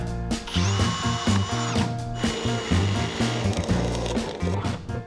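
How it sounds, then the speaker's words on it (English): A power drill whirs up close in repeated bursts aboard a sailboat, its motor pitch rising and falling as it bites into material, drilling small holes for cables. "I think we'll just drill another 2 little holes there"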